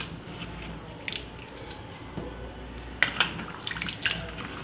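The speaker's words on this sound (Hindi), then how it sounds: "दो तीन पानी से मैं वॉश कर लूँगी इन आलूओं को।" Running water rinses sliced potatoes in a bowl in a home kitchen, a steady wash with splashes and clinks of slices being stirred, with no talk.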